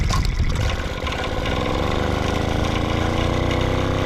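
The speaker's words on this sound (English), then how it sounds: "Start the front one and then engage the diesel one, and use the front one to start the diesel engine with." On a homemade all-wheel-drive bike carrying both a diesel and a petrol engine, an engine catches with a rough burst and then settles into a loud, steady, close chugging run that continues alone.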